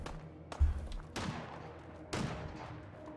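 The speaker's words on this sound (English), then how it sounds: "Trail leads us to the sound of gunfire." Three sharp gunshots in Fallout 4 ring out a second apart, each followed by a fading echo, fairly quiet against a soft background.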